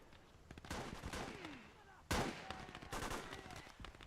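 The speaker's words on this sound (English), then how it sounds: "Because of the autocannon." Rapid bursts of autocannon fire in a Gates of Hell battle, mixed with other gunfire and explosions, with a sharp loud blast midway and repeated staccato shots throughout.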